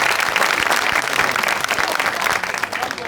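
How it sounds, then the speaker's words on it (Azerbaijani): A comedy show audience claps steadily and loudly for Rosko, with dense continuous applause filling the room throughout. "Dostlar, Rosko'ya bir dənə alqış, möhtəşəmdir Rosko'lar"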